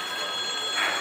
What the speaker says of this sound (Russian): Вот, это, видите, звук, значит, скоро пройдет поезд.